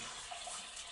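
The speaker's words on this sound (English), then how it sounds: "This one is Babbling Brook." A babbling brook nature sound plays from a Galaxy Wave Projector's small speaker, a quiet steady wash of flowing water heard alone.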